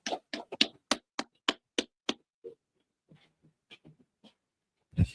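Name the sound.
clapping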